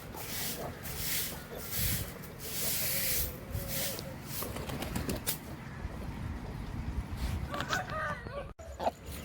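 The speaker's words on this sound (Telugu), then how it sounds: "కోళ్ళు నేను ఊడుతుంటే నా చుట్టూనే తిరుగుతున్నాయి." Chickens cluck and crow close by while someone sweeps the ground with a broom at dawn, repeated brushy swishes mixed with scattered clucks and a rooster's crow, fairly faint overall.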